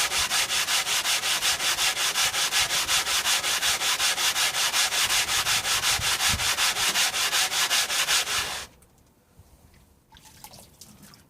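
Synthetic sharpening stones are lapped with a steady, rapid back-and-forth grinding scrape that holds loud and even for about eight seconds, then stops and leaves a few faint wet scuffs.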